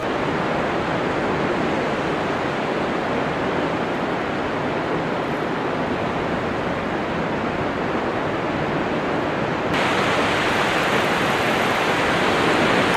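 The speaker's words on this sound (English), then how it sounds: "This is always fun to be able to bike right on the ocean, right next to where the waves break." Ocean surf breaking right beside a coastal road, a steady broadband roar of waves and wind that stays loud and continuous throughout, brightening slightly near the end, with no voices.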